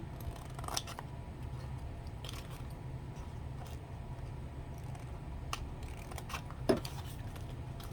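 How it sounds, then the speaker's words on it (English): Scissors snip slits into a card blank for a Shaker-style box. A series of quiet, crisp clipping sounds comes close up over a low steady background hum. "we're going to cut both slits because they're going to fold in."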